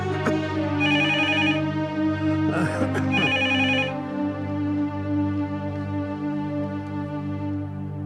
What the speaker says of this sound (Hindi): बाहर गांव का फोन लग रहा है मुझे